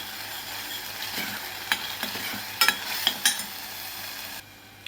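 Tomato puree for a mutton curry frying in a pan makes a close, steady sizzle, with several sharp spoon clinks and scrapes against the pan before the sound suddenly drops away near the end.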